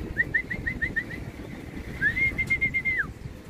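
Homing pigeons coming back to the loft after a training release, with a clear, repeated whistling tone that pulses in short bursts and then holds as one long whistle, over steady low outdoor noise.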